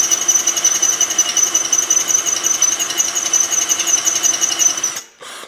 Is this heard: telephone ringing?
no